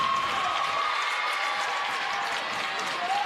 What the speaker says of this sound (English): Indians faithful are cheering on that defense.